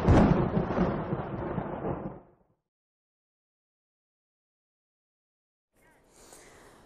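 Deep thunder rumbles loudly and close during a thunderstorm with lightning and heavy rain, fading out after about two seconds into silence before a faint, hissing rumble returns.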